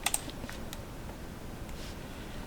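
Light, scattered keystrokes on a computer keyboard while writing React code, with a few soft clicky taps standing out against quiet room noise and no talking.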